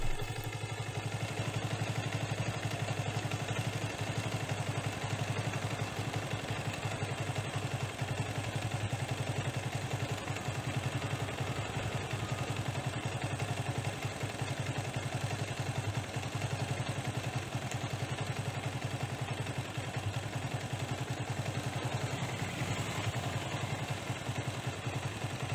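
A motorcycle engine idles steadily with its carburetor air-fuel mixture screw being adjusted, a continuous mid-level mechanical hum with light clatter that holds evenly throughout.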